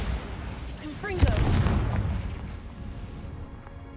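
Magical blasts from Bombarda and Confringo spells in Hogwarts Legacy, a loud booming burst with crackling debris that swells and slowly fades, heard alone without talk.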